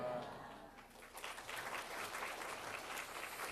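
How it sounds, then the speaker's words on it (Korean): Applause from a church congregation fills the whole stretch, a steady dense patter of many hands at moderate distance, holding level throughout. "우리 하나님께 박수를 드리겠습니다"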